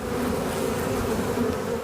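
Honey bees buzz around a beekeeper in a protective suit, a steady, dense, close-up hum that holds at the same loudness with no voices.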